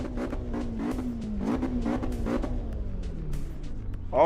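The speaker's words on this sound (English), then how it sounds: "You guys can hear the engine." A car engine runs steadily throughout, its pitch slowly rising and falling as it revs, with a brief louder burst at the end.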